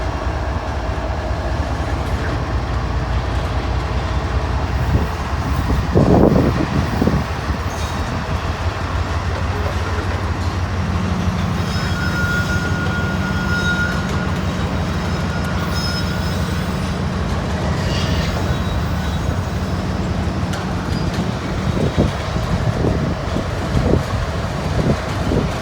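A heavy freight train rolls past pulling on one locomotive with its two trailing engines shut down, a loud continuous rumble of wheels and cars with clanking joints, squealing metal and a sustained whine running underneath.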